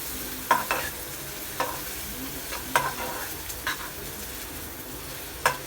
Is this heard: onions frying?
yes